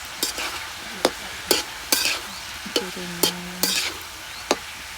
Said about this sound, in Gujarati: મસાલો પણ એડ કરી દઈએ છીએ અને મસાલો એડ કરીને હવે બરાબર હલાવીશું